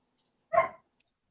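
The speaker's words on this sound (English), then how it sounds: "My dog is going nuts out there too." A single dog bark sounds from outdoors, one short muffled burst at moderate distance, with quiet surroundings before and after.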